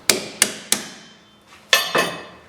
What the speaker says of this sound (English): you just have to wiggle it and then tap it in once you get it close